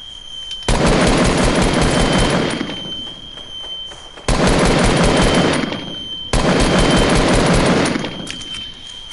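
Loud bursts of rapid automatic gunfire hit in the Fortnite battle game, three long volleys of dense shots each lasting a couple of seconds, separated by short quieter gaps.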